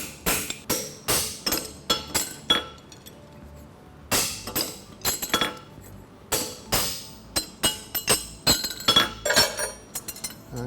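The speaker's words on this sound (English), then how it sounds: "After I fuller, I always clean my nail holes out with a stamp" A farrier taps a stamp with a hammer to clear the nail holes of a 3/4 fullered straight bar horseshoe on an anvil, giving bright metallic clinks in quick irregular bursts separated by short pauses.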